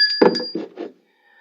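A bell rung on a weather show gives a bright ringing ding with a short metallic clatter, then fades to quiet within about a second.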